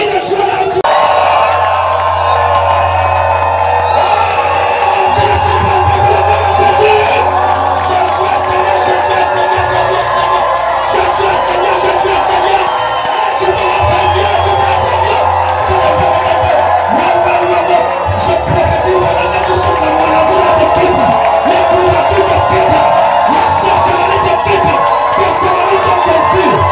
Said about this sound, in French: Pousse les cris de joie